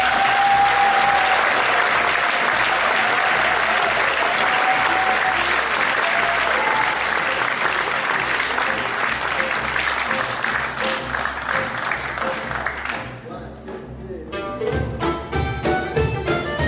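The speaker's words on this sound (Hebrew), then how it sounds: "מחיאות כפיים סוערות לאריאל בר" Loud, sustained audience applause fills a swing concert hall, a dense steady wash of clapping that thins out toward the end as scattered claps mix with the band starting to play.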